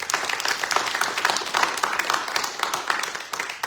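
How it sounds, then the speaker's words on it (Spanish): A church congregation applauding, with dense, steady clapping from many hands that keeps a lively, even rhythm, heard close and full. "¿Por qué no le da un aplauso al Señor"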